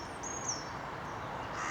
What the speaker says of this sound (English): again the robins are strong singing in the background